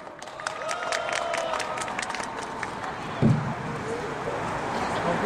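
A crowd at an outdoor labor rally claps to welcome a performance, the applause steady and moderately loud with crowd noise mixed in, and a brief thump partway through.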